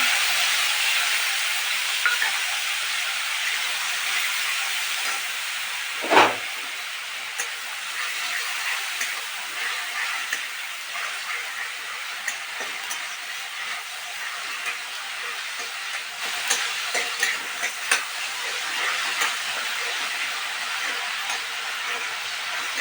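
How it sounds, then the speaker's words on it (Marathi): Curry leaves, cumin seeds, mustard seeds and onion-tomato paste fry in a pan with a continuous soft hiss and light crackle, one sharper pop early on and scattered spits later. "ह्यात ना कढीपत्ता जिरी मोहरी टाकून घेतली आणि कांदा टोमॅटोची पेस्ट पण टाकून घेतली."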